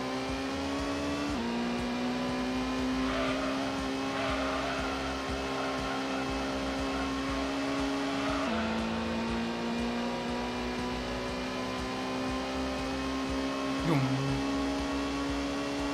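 A powerful 1990s road car on racing slicks roars through a Gran Turismo race: a loud, steady engine drone holds near-constant pitch, dips briefly as the driver shifts or brakes, then climbs again, with no talk over it.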